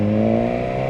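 BMW S1000R motorcycle, a 2019 second-generation model, with its engine held at the pit lane speed limiter around 5,000 RPM, giving a loud, steady, close drone with a slight wavering stutter throughout.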